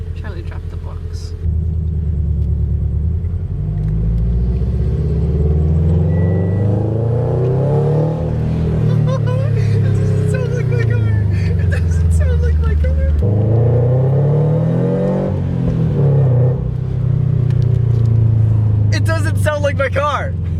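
Deep exhaust rumble from a Subaru fitted with a JDL header, steady and close, rising and falling with revs under excited talk.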